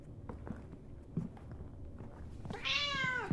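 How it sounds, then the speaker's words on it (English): A house cat lets out one loud, drawn-out meow near the end, after soft footsteps and shuffling in a quiet indoor room. "It looks as if your cat is doing well."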